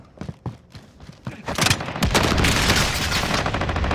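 Sustained gunfire in the video game Call of Duty, a dense automatic burst building into a loud continuous fusillade after a few scattered earlier shots.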